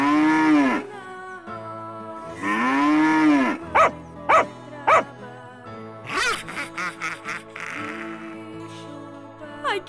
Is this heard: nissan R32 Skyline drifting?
no